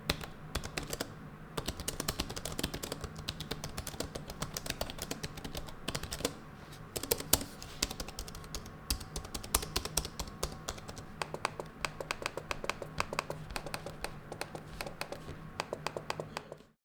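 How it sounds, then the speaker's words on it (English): Rapid, continuous typing on an ESR Flex Keyboard Case for an iPad A16, a dense stream of light plastic key clicks with brief pauses, close and fairly quiet, with no talk. "Typing on this keyboard feels good, not quite as premium as the ESR Rebound 360 case"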